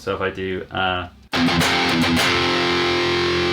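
Someone speaks briefly before an electric guitar played with hard down-picking rings out loud through a distorted amp, sustaining a dense, buzzing chord.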